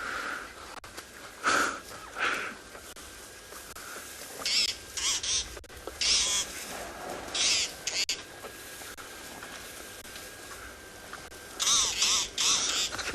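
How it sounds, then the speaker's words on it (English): Bird calls from a magpie shrike ring out in bursts on a South African afternoon safari among elephants, repeated short calls spread across the scene over steady outdoor background noise. "So this bird that you're hearing now looks like some magpie shrike"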